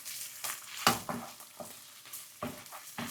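Minced meat seasoned with chili flakes, black pepper and salt sautéed in a pan, soft sizzling under scattered scrapes and taps of a spoon stirring, quiet and close, no talk.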